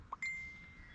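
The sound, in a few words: notification ding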